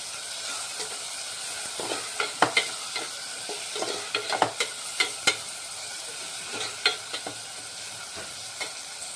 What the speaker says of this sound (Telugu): ఈ టమాటాలు కూడా ఎక్కువసేపు కాకుండా 5 మినిట్స్ ఫ్రై చేసుకున్నాం.